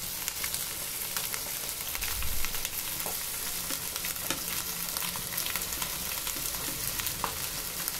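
Leftover cooked rice stir-fries in a hot pan with mixed ingredients, giving a loud, dense, continuous sizzle with frequent crackles and a brief low stirring thump near the start.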